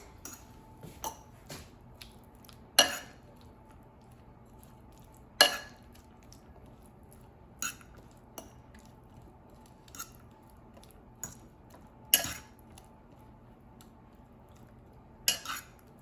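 Cooked air-fried chicken teriyaki mixed with sauce in a bowl, sparse clinks and taps of a utensil against the bowl at irregular intervals over a quiet background, no talking.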